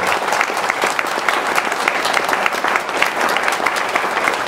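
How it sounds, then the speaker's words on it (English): A convention crowd at a 2009 furry gathering's closing ceremony gives a big round of applause, dense steady clapping, loud and continuous throughout without talk. "give him a big round of applause"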